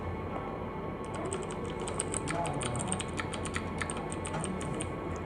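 Rapid, steady computer keyboard typing clatters throughout, close and moderately loud, with dense irregular keystrokes over a low background hum and no talk.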